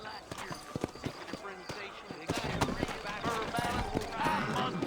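Horse hooves clip-clop in Red Dead Redemption, rhythmic thudding steps that speed up and grow busier as several horses set off, mixed with voices talking over them.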